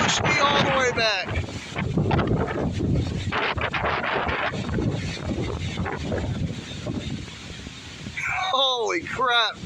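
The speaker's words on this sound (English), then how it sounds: "That was a really strong gust." Powerful thunderstorm gust roaring and buffeting the microphone outdoors for several seconds, loud and sustained, with a voice exclaiming briefly at the start and again as it eases.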